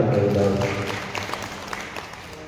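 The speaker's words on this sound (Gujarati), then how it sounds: "એ ઉભે ગ્રુપને તાળીઓના ગડગડાટથી આપણે વધાવીએ." A group at a religious gathering in Haridwar, Uttarakhand, claps in a brief, fading round of applause, with an indistinct voice and room noise mixed underneath.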